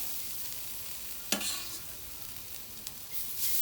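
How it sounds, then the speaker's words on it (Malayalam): Jackfruit seed thoran sautéing in oil with mustard seeds, curry leaves and fennel gives a steady soft sizzle, broken by a couple of sharp spatula scrapes and clinks against the pan, close and moderate, with no speech. "അപ്പം നമുക്കൊന്ന് എണ്ണയിലുള്ള വഴറ്റിയെടുക്കാം."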